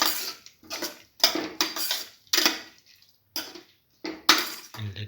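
A spoon clanks and scrapes in a pot while a ginger, tomato and yogurt mixture with curry leaves and salt is stirred, loud close bursts of metal on metal separated by short pauses.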